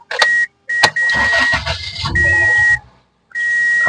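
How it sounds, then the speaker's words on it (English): A Pontiac Vibe starting up, the starter cranking and the engine catching, with short chime beeps around it, all close and loud. "you start the car"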